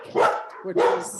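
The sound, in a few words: dogs barking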